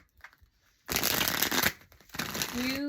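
Tarot cards are shuffled close by in two quick riffling bursts separated by a short pause, a crisp papery flutter, with a faint voice just before.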